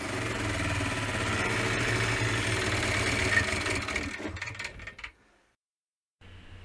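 An old Lombardini LDA 520 / 6LD 325 diesel driving a water pump idles with a steady, loud, low chugging, then falters and dies, leaving near silence before faint ambient sound returns.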